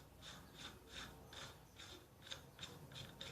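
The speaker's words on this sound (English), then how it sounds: "Now there is a large nut right here that has to be removed." Ratcheting wrench clicks in a steady rhythm as a large nut is loosened on the gear drive of a 1955 Wheel Horse Senior tractor, close and fairly faint, with no talk.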